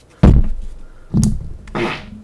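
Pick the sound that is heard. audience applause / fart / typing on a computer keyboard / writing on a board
fart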